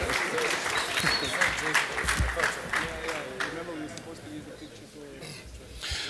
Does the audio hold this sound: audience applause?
yes